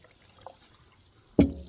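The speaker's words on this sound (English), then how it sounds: "you take half a glass of cold water, just pour it in there" Half a glass of cold water splashes into a coffee pot of grounds and eggshells at a campfire, one short pour near the end after a faint earlier tick, close and fairly loud with no talk.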